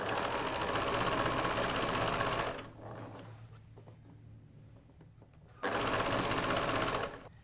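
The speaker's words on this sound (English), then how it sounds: "you can start sewing" A sewing machine stitches piping onto a box cushion cover in a steady, fairly quiet run, pauses for a few seconds, then runs again briefly.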